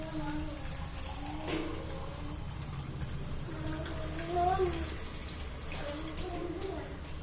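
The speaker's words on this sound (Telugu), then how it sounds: "టూ గ్లాసెస్ వాటర్ యాడ్ చేస్తున్నాను." Two glasses of water pour and splash into a cooking pot in a steady stream, with a faint voice murmuring in the background.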